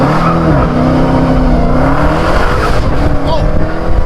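Dodge Hellcat Redeye doing a burnout, a loud sustained engine roar with tire squeal running the whole time, close and steady.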